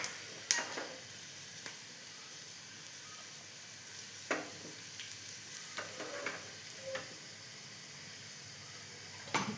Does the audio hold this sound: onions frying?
yes